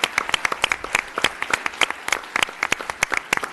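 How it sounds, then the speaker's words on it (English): Close, crisp audience clapping at a county commission meeting, a brisk run of distinct individual hand claps in quick rhythm, loud and alone for a few seconds. "I want to have everybody join me in a round welcome and applause"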